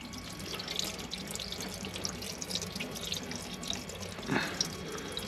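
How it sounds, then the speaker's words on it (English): Coolant trickles from the thermostat housing of a mk3 Ford Focus TDCi, a faint, steady watery dribble with a few drips and one brief louder splash near the end, no talking. "now there is coolant coming out"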